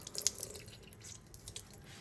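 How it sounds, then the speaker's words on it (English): A wet soft cloth wrung out by hand, giving a few close drips and trickles of water, brief splashy bursts at the start and again later, fairly faint with no speech. "you can squeeze it and remove all the water."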